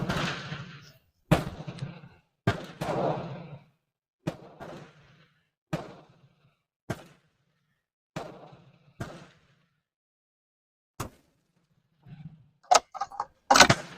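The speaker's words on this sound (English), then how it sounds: "so now I'm going to shoot the top target since I adjusted the windage now." A 1903 Springfield rifle fired at a shooting range, recorded with noise reduction: about a dozen sharp, loud shots at irregular intervals, each cut off abruptly into silence, with a cluster of quicker bangs near the end.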